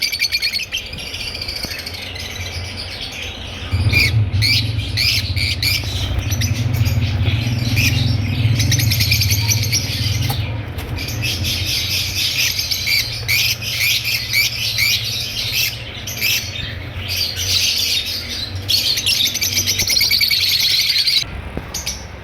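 A flock of albino red-eyed personata lovebirds fills the space with dense, shrill chirping and squawking, constant and close, with a low rumble underneath and brief gaps of lighter calling, and no voices.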